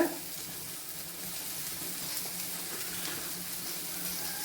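Onions sautéing in a hot pan with a pinch of salt give a steady, close sizzle that crackles evenly throughout without a break.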